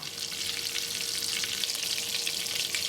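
Cajun-seasoned prawns with garlic fry in butter and oil, producing a loud, dense, continuous sizzle close up, with no voices.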